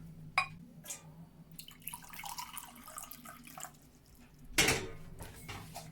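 Lukewarm water splashes and trickles into a pot in short bursts, with a few clinks of cookware and faint background voices.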